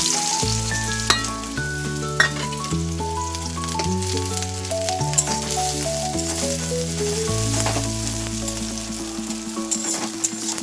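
Onion and chilli fry in hot mustard oil, a steady sizzle running under louder background music with a deep, stepping bass line.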